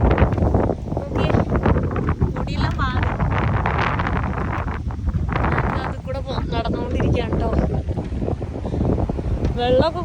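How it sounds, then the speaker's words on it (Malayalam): Strong, dusty wind gusts across open rural countryside, roaring steadily and buffeting the microphone throughout, with a person talking under the noise. "എക്സ്ട്രീമായിട്ട് പൊടിക്കാറ്റടിക്കുകയാണ് കേട്ടോ, ഭയങ്കര കാറ്റ്."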